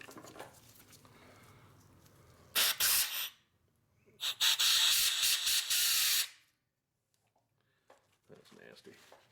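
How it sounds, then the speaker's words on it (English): Two loud hissing bursts of brake cleaner spray into the rear brakes of a 2013 Honda CR-V, a short blast then a longer one lasting about two seconds, close by, with quiet background talk before and between. "Let me get some brake cleaner, spray it in there."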